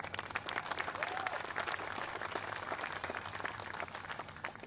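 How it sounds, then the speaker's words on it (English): A crowd at a governor's tourism announcement breaks into applause during the speech, a soft, even wash of clapping heard from a distance over a steady background hum. "You're giving it a round of applause."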